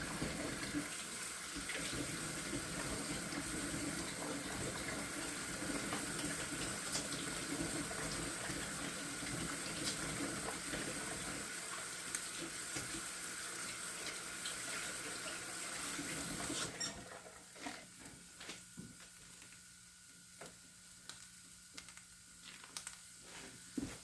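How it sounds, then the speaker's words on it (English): Cold water pouring steadily from a kitchen faucet at close range, a continuous hiss and splash that cuts off partway through, leaving faint clatter and quiet room noise. "Water's cold coming out of the faucet."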